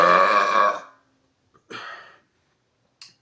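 Loud, drawn-out burps after dinner: one long rumbling belch, then a shorter one, and a brief faint third at the end, separated by silence.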